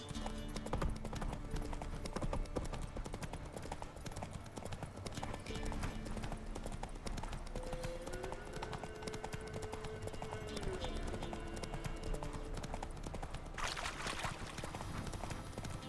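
Roach, Geralt's horse in The Witcher 3, trots with steady clip-clopping hooves that run throughout, set in the game world with a faint neigh and another voice.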